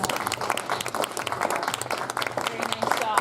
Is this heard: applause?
yes